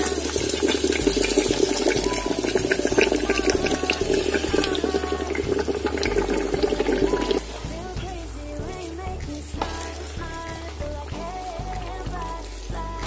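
Hot frying oil poured into a pot of eru, a steady liquid pour with splashing and running-water texture that drops to a softer flow partway through.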